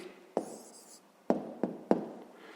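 A pen writes out the answer to a fifth-grade math exercise, a squared number, on paper: a longer scratching stroke followed by three short, sharp strokes, close and fairly quiet, with no voice.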